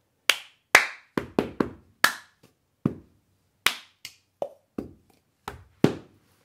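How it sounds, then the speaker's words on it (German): Sharp hand claps in an uneven cup-song rhythm, about a dozen close, crisp claps and slaps with short gaps, no voices. "Du klatschst zweimal und dann machst du dumm, dumm, dumm."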